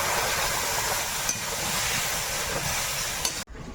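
Water poured into a hot pan of mashed steamed banana curry sets off a steady, loud hiss and bubbling that runs unbroken for several seconds before stopping abruptly.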